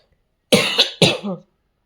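Two harsh, loud coughs close to the listener, each with a short rasping tail, separated by a brief pause, then silence.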